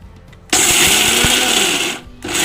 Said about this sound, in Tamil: நம்ம எடுத்து வச்சுருக்க வேர்க்கல்லையே மிக்சியில் போட்டு பல்ஸ் மூடில் வச்சு அரைச்சிக்கலாங்க